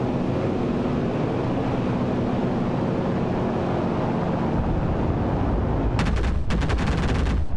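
Gunfire aimed at a plane in the World War II shooter Enlisted, a rapid burst of close sharp shots near the end over a steady rumble of engine and battle noise.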